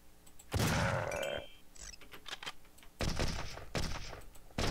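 Gunfire in the video game Zombotron 3, with a few loud, close shotgun blasts and clattering bursts of impacts and debris, spread unevenly across the moment.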